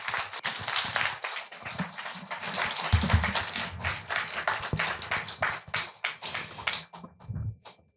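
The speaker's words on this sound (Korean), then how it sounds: "다시 한번 뜨거운 박수 부탁드립니다" Audience applause after a history lecture on Korean ancient history, a sustained patter of many hands clapping in a hall, fading out near the end.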